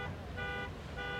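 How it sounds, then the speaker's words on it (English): A car alarm wails faintly in the distance, its repeating tonal pattern rising and falling twice, under a dense low rumble of background noise. "somebody's car alarm"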